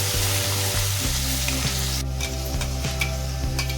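Tomato, onion and garlic puree fries in hot oil for mushroom masala, producing a loud, close, continuous sizzle with rhythmic scraping stirs, while a low mechanical hum runs underneath.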